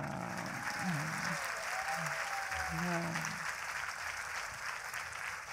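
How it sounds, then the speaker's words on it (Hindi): Audience at a Hindi spiritual session applauding contributors, steady clapping under a speaking voice throughout. "समर्पित है ये तालियां उन सभी को आशीर्वाद स्वरूप जिन्होंने भी तन मन धन समय देकर आज के सत्र में योगदान दिया है"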